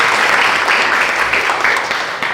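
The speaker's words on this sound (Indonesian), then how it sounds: "sekali tepuk tangan buat kita semuanya" A classroom group claps together for itself, a dense, loud burst of applause that fills the full moment without letup.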